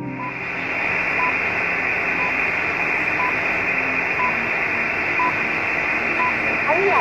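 A radio time signal on an MF/HF receiver gives short beeps once every second, steady and evenly spaced under a constant hiss of radio static.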